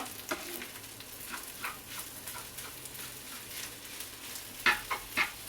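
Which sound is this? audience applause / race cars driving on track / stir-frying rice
stir-frying rice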